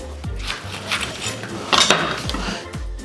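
A knife slicing straight down through a vegetable on a cutting board, several sharp chopping knocks and clinks spaced over a few seconds, close and clear with no talking.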